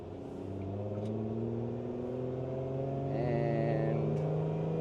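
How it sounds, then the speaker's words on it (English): A Lotus Emira sports car accelerates in first gear, its engine note climbing steadily in pitch and loudness from inside the cabin, a smooth rising drone that swells near the end with no speech over it. "I'm gonna give it a little acceleration here"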